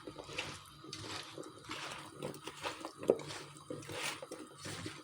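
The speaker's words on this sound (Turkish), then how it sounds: "Bunu bu şekilde iyice yoğuruyorum." Hands knead a meat mixture with tomato paste, oil, salt and spices for a clay-pot güveç, giving soft, close wet squishes and squelches in an irregular rhythm, fairly quiet, with no talking.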